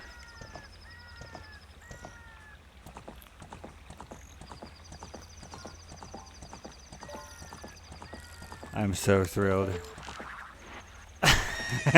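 A horse gallops in Ocarina of Time, its rhythmic digital hoofbeats clopping steadily for most of the stretch, with someone briefly speaking over them and a louder burst of game sounds near the end.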